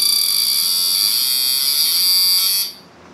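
MSD aftermarket ignition box on a tester, sparking as engine RPMs are raised with trans brake simulated, a loud continuous high-pitched buzzing whine that holds steady and then cuts off abruptly.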